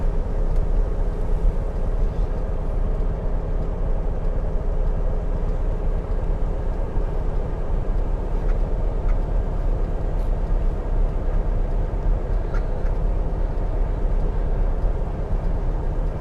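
A 1967 VW Karmann Ghia, long unused and under rusty restoration, creeps along at walking pace in second gear, its low steady engine rumble and drivetrain noise continuous and close throughout with no talking.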